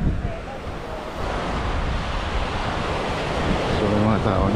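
Ocean surf and gusty wind at a beach in Buruanga, Aklan, on Panay Island, Philippines: a constant loud rush of breaking waves with rumbling wind buffeting the microphone.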